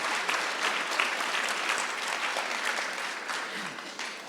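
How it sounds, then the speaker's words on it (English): An audience at a women entrepreneurs forum breaks into sustained applause, a dense, even clatter of many hands clapping that fades gradually toward the end, with no speech over it. "let's give her a round of applause for that"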